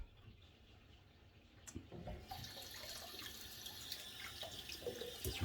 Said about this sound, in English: Just rinsing out my razor here.